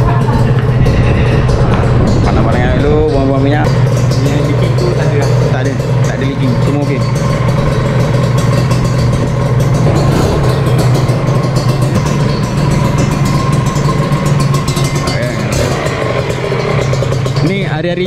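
A Kawasaki RR150 motorcycle engine, freshly restored, runs steadily at idle for the whole stretch, its low, even drone loud and close, with occasional slight rises in pitch and a person speaking over it.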